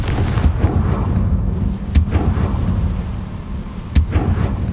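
Two sharp blasting-spell explosions from the Confringo spell in Hogwarts Legacy, evenly spaced about two seconds apart, cracking loudly over a dense, rumbling game backdrop.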